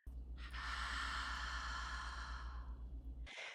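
A long, breathy mouth exhale with an open haa sound, as in a qigong breathing exercise, is heard close and alone for about three seconds. A short sharp intake of breath through the nose follows it.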